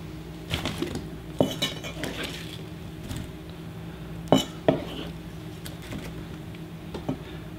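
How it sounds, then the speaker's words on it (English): Metal knife blade clinks and scrapes against a ceramic bowl and cutting board as watermelon cubes are scooped up and dropped in, a handful of sharp close clatters spread unevenly over several seconds. "just pick them up with your knife and put them in your bowl."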